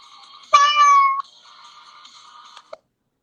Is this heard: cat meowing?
yes